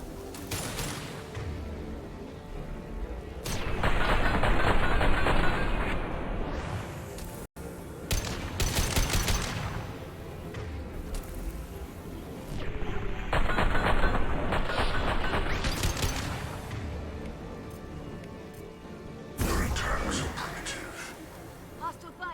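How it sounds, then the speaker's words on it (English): Hostile gunfire in Mass Effect 2 comes in sustained loud volleys separated by quieter stretches, with heavy impacts mixed in and voices talking over the fighting. "Hostile fire. Taking cover."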